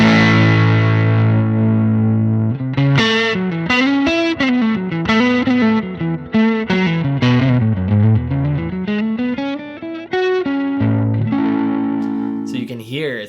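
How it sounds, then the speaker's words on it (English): Cranked-amp distorted electric guitar recorded through a Two Notes Torpedo Reload II, a loud, saturated run of sustained notes and bends forming a continuous melodic lead phrase, played alone without talk. "So you can hear it's pretty cranked now."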